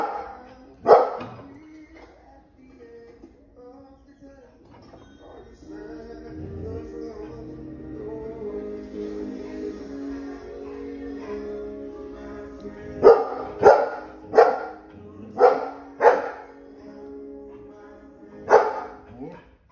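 A dog on a TV program barks several times in a quick burst of loud yips near the end, with an earlier single bark, while household TV sound and a person's voice continue underneath.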